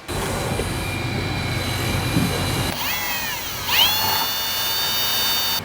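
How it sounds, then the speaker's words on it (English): A power drill bores holes into the frame of a 1962-67 Chevy Nova during a rear sway bar install, a steady high whine that runs loud and close, then dips and rises again with pitch sweeps as the bit cuts through. "Okay, now we'll go ahead and drill them out."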